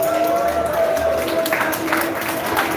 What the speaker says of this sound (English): you're going to give them a big round of applause